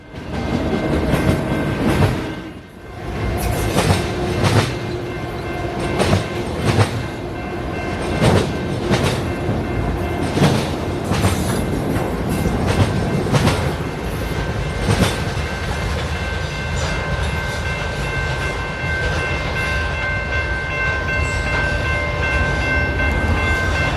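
Train X203 rolls past on a mainline railroad, a loud, close rumble of railcars with rhythmic wheel clatter over joints and a horn-like tone, continuing steadily for the whole pass.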